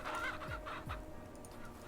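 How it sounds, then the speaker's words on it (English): Chickens in the Ranch Simulator video game cluck in a few short, soft bursts, close by but fairly quiet, with no talking over them. "Go away, chickens."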